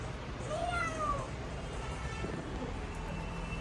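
A cat gives a couple of short meows early on over a steady, noisy background, then the sound settles into low ambient hiss, in Manali, Himachal Pradesh.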